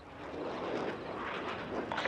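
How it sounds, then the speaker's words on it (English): An enemy spy plane passes overhead in Call of Duty Black Ops Cold War, a steady, moderately loud broadband engine drone that holds for about two seconds, with no talk. "Enemy spy plane inbound."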